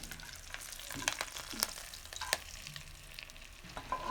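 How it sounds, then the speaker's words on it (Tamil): Red chillies and curry leaves sauté in hot oil in a pan for a chicken dish, giving a soft steady sizzle with a few sharp crackles and spatula scrapes, close by and fairly quiet. "2 ரெட் சில்லிஸும் ஒரு 4 கருவேப்பிலை இதுலேயும் சேர்க்குறோம். ஸோ வதக்கி விட்டுக்கலாம்."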